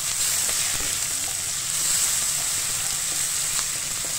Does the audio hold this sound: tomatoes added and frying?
yes